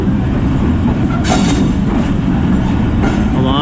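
A Pakistan Railways Mehr Express passenger train runs between Rawalpindi and Multan, heard from inside as a loud, constant low rumble with rhythmic clickety-clack from the wheels and a few brief metallic squeals.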